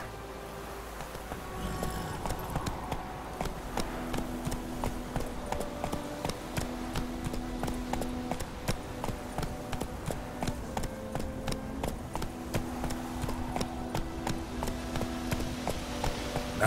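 Roach the horse in The Witcher 3: Wild Hunt, hooves clip-clopping in a steady, even gait throughout, fairly close and clear, with a low ambient drone and faint tones in the background.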